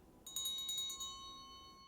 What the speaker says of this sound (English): with the sound of a single bell